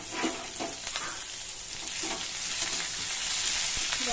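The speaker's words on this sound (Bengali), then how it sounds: "রসুন কুচি, পেঁয়াজ কুচি, হালকা করে এটা ভেজে নেব" Chopped garlic and onion frying in a pan, a dense continuous sizzle with soft stirring clicks scattered throughout.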